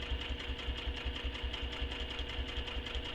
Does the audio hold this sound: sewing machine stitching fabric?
yes